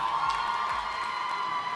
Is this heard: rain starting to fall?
no